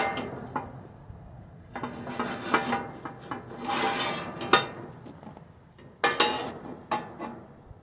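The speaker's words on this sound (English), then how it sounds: "Now we can get the rest of the skillets in here." Cast iron skillets being restored are set in together, heavy metal scraping and clanking in uneven bursts, close and fairly loud, with no talking.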